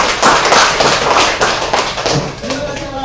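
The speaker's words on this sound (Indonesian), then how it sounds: "berarti tepuk tangan untuk Alan." A group claps together after a closing prayer at a teacher-training class session, producing dense, busy clapping for about two and a half seconds that fades out as a voice begins speaking.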